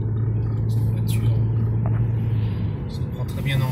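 A Honda Civic Sport Plus with a CVT gearbox drives along, its steady low engine hum and road rumble continuous beneath someone talking inside the cabin.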